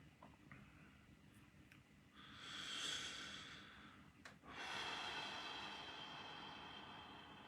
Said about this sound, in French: je crois que je vais prendre quelques respirations